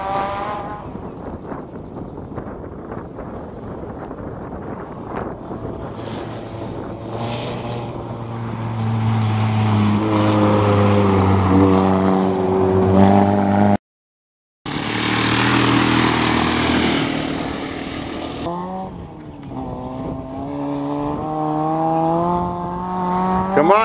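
Toyota GTS car engine on a test drive, loud and close, revving up through rising pitch sweeps with gear changes and a brief cut-out, holding strong throughout.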